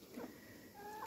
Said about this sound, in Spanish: las gallinas están comiendo naranja